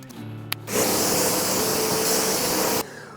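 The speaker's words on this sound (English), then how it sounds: "right now I'm just spraying and washing off" A steady hiss of water spraying at close range over a Harley-Davidson Street Glide starts abruptly after a click, runs for a couple of seconds, then cuts off.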